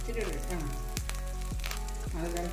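Coconut oil sizzling in a cooking pan while preparing beef bone kappa biriyani, a constant crackle under a low hum, with a voice speaking over it and a few sharp sweeping tones.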